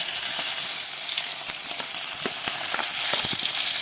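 Garlic and ginger sizzle steadily in hot oil with mustard seeds for a crab roast, a dense continuous crackle with sharp pops scattered throughout, close and fairly loud with no voices.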